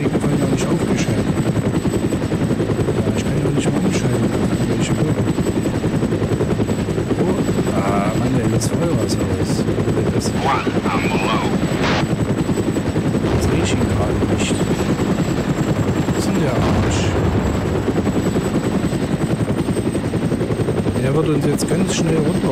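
Steady helicopter rotor thrum dominates throughout in the video game ArmA, with bursts of gunfire and game effects layered over a continuous low engine drone.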